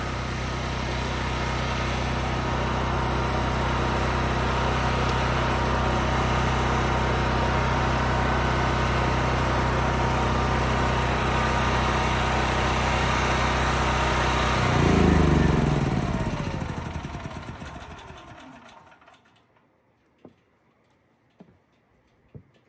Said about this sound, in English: So let me turn off the generator and stuff,